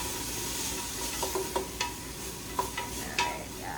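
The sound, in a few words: stirring diced bell pepper frying in soup pot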